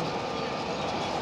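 A Patna metro train pulling in, heard as a steady, even rumble and hiss of the train at moderate loudness, continuous throughout with no voices.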